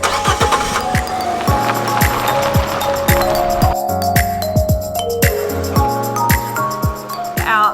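A Fiat 500 drives with its roof open on Paros, Greece. Steady engine and road noise run throughout, with rhythmic knocks and bumps layered over the drive.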